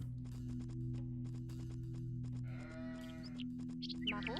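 Sheep bleat in Age of Empires II, a series of short wavering calls over steady game music and clicking interface sounds, with a louder bleat near the end.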